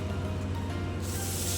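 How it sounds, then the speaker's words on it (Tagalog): A pressure washer sprays water in a steady loud hiss over a low motor hum, the spray turning harsher and brighter partway through, close and continuous with no talk. "Pressure wash."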